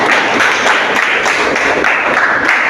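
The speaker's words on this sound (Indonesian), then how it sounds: "Kita akan tepuk tangan." A class of seventh-grade students claps their hands together in a classroom during a civics quiz, loud, fast, continuous clapping with a slightly rhythmic pulse throughout.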